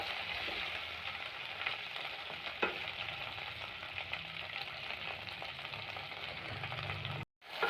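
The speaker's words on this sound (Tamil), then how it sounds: "வெண்டைக்காய் போட்டு நம்ம நல்லா வதக்கிக்கலாம்." Okra sautés in a pan, an even, continuous sizzle with light stirring, heard close but fairly soft, broken by a sudden brief silence near the end.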